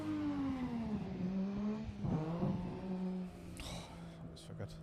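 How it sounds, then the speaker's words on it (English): A drift car engine in Assetto Corsa hums steadily, its pitch sagging, then swells in a brief rev before settling, with faint tire or road noise layered on top and possible voice underneath. "I like the sound of this car."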